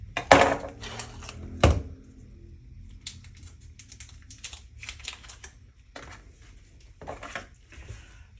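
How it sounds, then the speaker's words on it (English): A knife slices through a block of Velveeta cheese on a board: two sharp thuds early on, followed by a run of light, irregular tapping and scraping taps, fairly close and without talk. "what I'm slicing is some Velveeta cheese"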